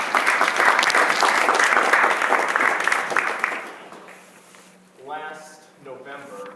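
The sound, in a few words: audience applause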